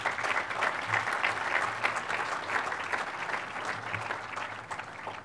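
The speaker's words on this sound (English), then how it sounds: "Let's give them all a round of applause." Crowd applause sweeps through the Cornell Tech groundbreaking celebration, a broad continuous wash of many hands clapping at even volume from start to finish, with no speech over it.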